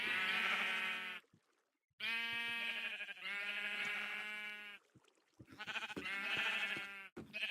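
Sheep in a Minecraft wool farm bleat in several long, loud, wavering calls, one after another with short gaps between them, close by and with no talk.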